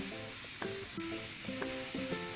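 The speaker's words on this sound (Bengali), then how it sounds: "আস্তে আস্তে ভেন্ডিটাকে ভেজে নেব" Okra frying in a pan with salt and turmeric, giving a soft, steady sizzle with faint tonal sounds running over it.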